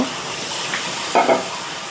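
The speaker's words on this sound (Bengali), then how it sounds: "পরিমাণ মতন পানি দিয়ে দিব।" Water poured into a pan of spiced potatoes for a pangas fish curry, a short liquid splash and gush over a steady sizzling background, close and fairly loud, with no talking.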